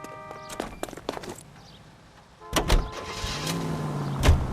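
In the video game L.A. Noire, a car door slams and the engine starts up, then the car pulls away with a rising engine roar after a few quieter footsteps and clicks.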